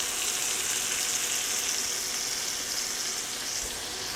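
Pats of butter sizzle in a pan with filet mignon, a steady, bright frying hiss that holds evenly throughout and runs without speech.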